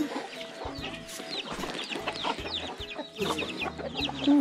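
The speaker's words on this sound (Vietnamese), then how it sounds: "Anh nuôi con gà trắng người mông mà đẹp thế." White chickens cluck repeatedly while being fed on a farm, a busy close chorus of short clucks over a steady low rumble of background noise.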